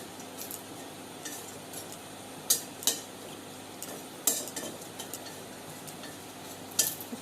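Chilies fry in oil in a home kitchen pan under a quiet continuous sizzle, broken by a few sharp metallic clinks of a utensil scraping and stirring against the pan.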